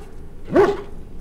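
A single short dog bark comes from the video game Dragon Age Origins, one clear mid-pitched woof standing alone against quiet background ambience.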